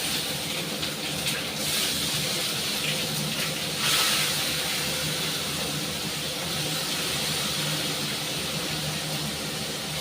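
Tap water runs steadily while a plate is washed at a kitchen sink during home cooking, a continuous even splashing hiss with faint clinks, no talking.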